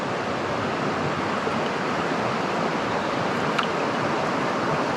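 Constant rushing water pours steadily from a small waterfall on the Cataract River, a broad hiss of falling water heard close up with no other sounds.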